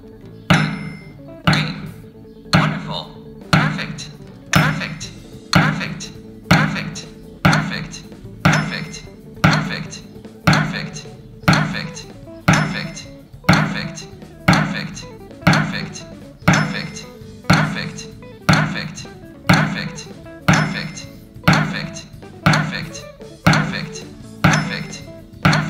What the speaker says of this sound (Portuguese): Eu vou usar aqui minha baqueta Seibanis Pratix, que vem com a ponta de borracha.